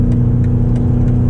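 A 2024 BMW X5 M Competition accelerates on a public road, its engine a loud, steady low drone heard from inside the cabin with no talk.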